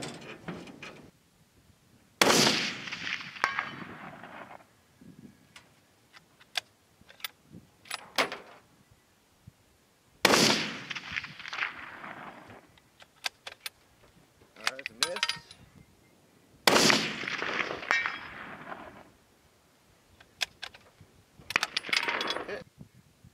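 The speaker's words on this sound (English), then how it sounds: "see if I could attempt these shots with the factory rounds" A 30-06 rifle firing factory rounds at a shooting range produces three sharp blasts with decaying tails, spaced several seconds apart. Metallic mechanism clicks and handling noises fill the quieter gaps between the shots.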